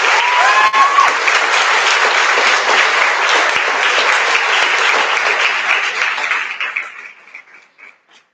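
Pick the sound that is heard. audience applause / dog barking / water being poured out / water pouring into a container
audience applause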